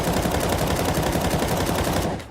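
Rapid automatic gunfire from Counter-Strike 2 rattles in a dense, loud, continuous burst of closely spaced shots, cutting off abruptly near the end with no talking.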